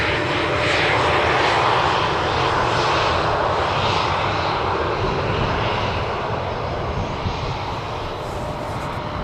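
Loud, steady jet engine roar from an airliner on runway 18R at Amsterdam Schiphol Airport, a broad continuous rumble that holds nearly constant and eases slightly toward the end, with no voices.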